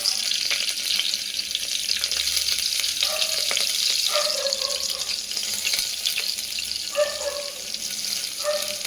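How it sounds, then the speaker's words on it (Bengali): Chopped onions hit hot oil in a home kitchen pan and sizzle steadily, a close, dense hiss with brief crackling spurts running throughout, no talking. "তো মোটামুটি মনে হচ্ছে তেলটা গরমের দিকে হয়ে এসছে। তো এর মধ্যে আমি এই পেঁয়াজগুলো দিয়ে দিচ্ছি।"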